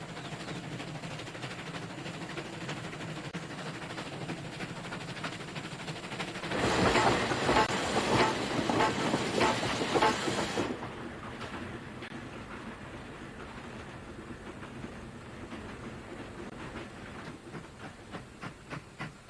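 A steam train running through rural South Africa, with a continuous rumble and rolling rail noise, then a loud burst of hissing steam in the middle, followed by a quieter chuffing beat.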